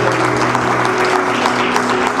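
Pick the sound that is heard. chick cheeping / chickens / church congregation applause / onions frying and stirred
church congregation applause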